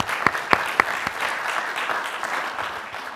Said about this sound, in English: Give him a great big round of applause.